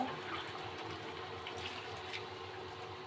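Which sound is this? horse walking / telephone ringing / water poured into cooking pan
water poured into cooking pan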